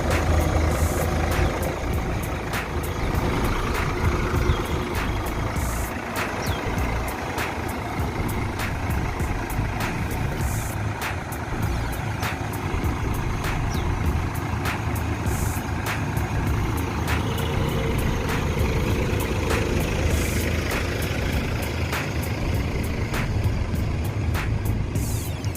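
A Hino diesel engine of a Laksana SR2X HD Prime coach bus idles in a steady low rumble, with a repeating reversing beep ticking along and traffic noise around it.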